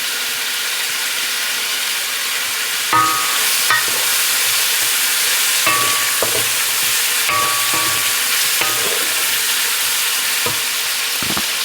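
Chicken and pork belly fry in a pan with a constant loud sizzle and hiss, broken by occasional scraping and clicking stirs of a utensil.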